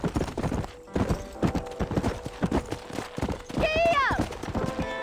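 Hooves clip-clop in a quick galloping rhythm from a horse in the Red Dead Redemption western video game, with a rider's voice calling out and a horse's whinny rising near the end.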